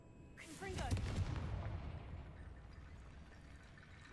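A Confringo fire spell cast in Hogwarts Legacy, heard as a sudden whooshing burst that rumbles loudly for about a second and then trails off into a fading crackle.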